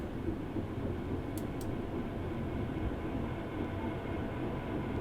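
Simulated train running on the North London Line in the OpenBVE train simulator, a steady, close low rumble throughout with a couple of brief high ticks partway through and no talking.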